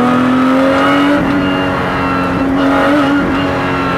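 Lotus Cup R race car engine, loud and close, with a sustained high droning rev whose pitch wavers and dips briefly between throttle pulses as the car drives.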